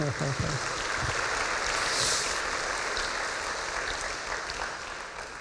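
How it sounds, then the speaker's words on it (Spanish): A church congregation applauds during a sermon, a broad continuous wash of many hands clapping, steady and moderately loud, with brief voice traces early on. "ayúdeme, aplauda al Señor"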